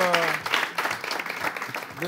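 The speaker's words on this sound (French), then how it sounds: "Mesdames, messieurs, ça s'applaudit s'il vous plaît" A studio audience claps in applause at a French television show, a dense patter of hands that swells and continues steadily under a host's voice.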